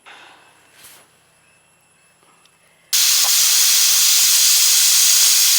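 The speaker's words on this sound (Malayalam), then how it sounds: "ഇതിലിപ്പോൾ 1 വിസിൽ വന്നിട്ടുണ്ട്." A pressure cooker cooking rice on a gas stove suddenly bursts into a loud, continuous steam hiss that holds for the rest of the moment, following a few seconds of quiet kitchen sounds.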